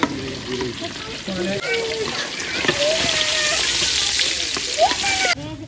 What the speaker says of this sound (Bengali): মাছ ফ্রাইগুলো আস্তে আস্তে সবগুলোই মাছ ফ্রাই করে নিতেছে